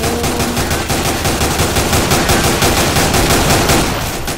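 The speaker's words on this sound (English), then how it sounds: "Keep shooting, guys." Rapid, loud automatic gunfire from Counter-Strike: Source in a zombie escape mode, a dense continuous volley of overlapping shots with no pauses.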